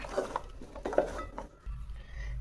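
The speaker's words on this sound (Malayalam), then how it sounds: "ഇത് നന്നായിട്ട് മിക്സ് ആക്കുക" Turmeric powder, pepper powder and salt are stirred together in a kitchen bowl, giving soft clinks and scrapes of utensil against dish that stop briefly partway through.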